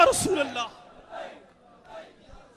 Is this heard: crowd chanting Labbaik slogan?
yes